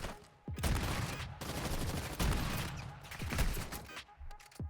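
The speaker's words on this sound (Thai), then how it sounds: "ยิงกันเองได้ไง" Dense gunfire in the mobile game Call of Duty Warzone Mobile, a loud, almost continuous fusillade of rapid shots with short pauses, close and filling the whole moment, without speech.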